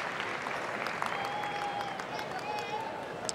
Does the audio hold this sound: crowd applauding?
yes